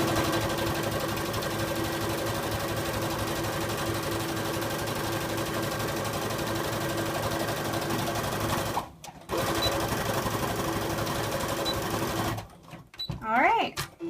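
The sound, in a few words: sewing machine stitching trouser hem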